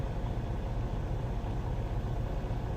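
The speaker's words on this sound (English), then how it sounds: "whether you drive a big truck like me, like the one I'm filming in right now" Inside the cab of a big truck, a low, steady engine drone hums along evenly and fairly quietly. No voices are heard.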